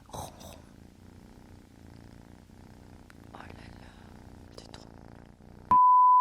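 A cat purring softly and very close, a low continuous rumble with faint whispered sounds over it, cut off at the end by a loud, steady electronic beep.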